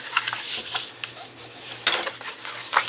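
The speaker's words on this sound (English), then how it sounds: "I'm going to go ahead and pre-fold our score lines so that we'll be ready to put this together." Paper being folded along score lines and burnished by hand for a paper lunch box: close scraping and rubbing strokes in short irregular bursts, with a faint hum underneath.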